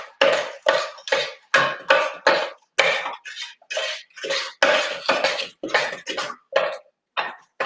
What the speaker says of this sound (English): Keep stirring. Yeah, just keep stirring.